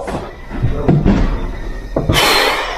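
Door slamming shut inside a room during an exploration of an abandoned place, with sharp loud impacts near 0.9 s and 2.0 s followed by a broad rushing noise.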